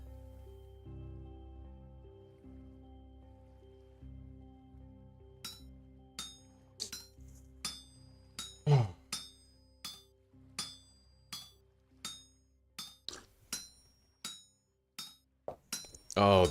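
A tin bronze chisel is hammered out at a smithing anvil in the game Vintage Story, heard as a quiet lead-in followed by a regular series of sharp metallic clinks that ring out one by one.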